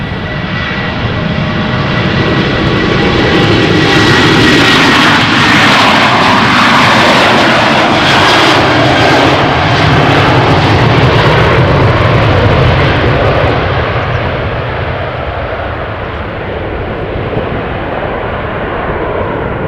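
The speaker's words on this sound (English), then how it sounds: "the Transavia 737-700 is going to take off" A Transavia Boeing 737-700 jet takes off at Amsterdam Schiphol Airport with a loud, continuous engine roar that swells and then slowly recedes.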